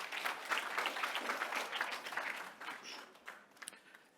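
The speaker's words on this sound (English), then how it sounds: "Can you give him a round of applause" Audience applause at a stakeholder event, steady dense clapping from a crowd for the full stretch, loud at first and gradually thinning out toward the end.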